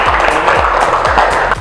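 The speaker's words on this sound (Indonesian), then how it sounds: "Tepuk tangan untuk kelompok 1" Classroom applause for a student group during a teaching session, a short burst of clapping with rhythmic low thumps, loud and close.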